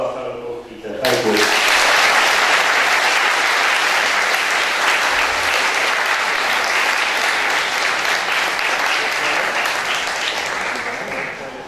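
Sustained applause from a university lecture audience erupts about a second in and holds steady, dense and fairly loud, before easing slightly toward the end.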